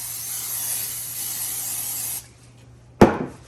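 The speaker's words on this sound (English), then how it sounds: "I'm going to spray my bowl with cooking spray." A steady hiss of cooking spray into a bowl lasting about two seconds, then a brief pause and a short clatter as the can is set down nearby.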